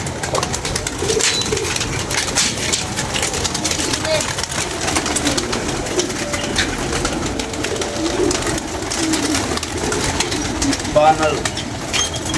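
Pigeons coo softly in the background while people talk over them, with a faint rumble of wind or an engine behind.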